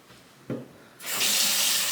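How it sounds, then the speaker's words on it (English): A sink tap is turned on and warm water runs steadily and close into the basin after a brief knock of the handle, a loud, even hiss with no voices. "So I get warm water and I just wipe my face."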